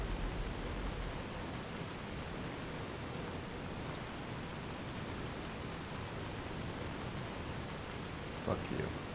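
Steady rain from the video game Fallout: New Vegas hisses evenly and continuously as a broadband wash, fairly loud and alone, with a brief louder patter near the end.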